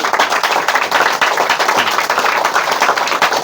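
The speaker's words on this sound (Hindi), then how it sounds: "ताली बजाइए इसके लिए" A group claps for a schoolgirl in a classroom, a dense, steady patter of many hands sustained and fairly loud throughout.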